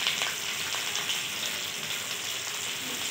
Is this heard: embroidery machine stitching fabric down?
no